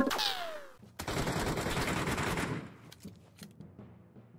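Rapid bursts of gunfire in a shooter video game, a dense fusillade of machine-gun shots filling most of the span, then tapering to scattered individual shots and fainter distant fire.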